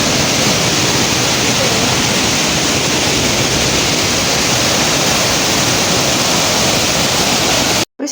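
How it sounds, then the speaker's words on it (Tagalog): A park waterfall roars loud and close, a dense constant rush of falling water that cuts off abruptly at the very end. "Dito kami sa falls."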